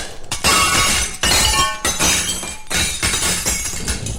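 A Florentine mirror shatters in a series of three or four loud crashes of breaking glass, each burst followed by tinkling shards, with no voices.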